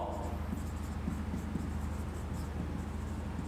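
Chalk or marker scratches across a board during a math lecture on set theory, a run of quick, faint, irregular strokes close by in a quiet room, with no speech.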